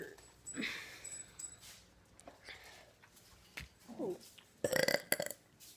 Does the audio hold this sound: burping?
yes